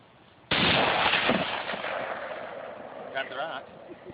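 A single rifle shot fired outdoors by a first-time shooter: one sudden loud crack followed by a long rolling echo that slowly fades, with a brief voice near the end.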